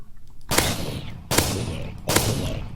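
Shotgun fire in Minecraft 1.14.4, three loud sharp blasts spaced under a second apart, each with a brief decaying tail, close and without talk.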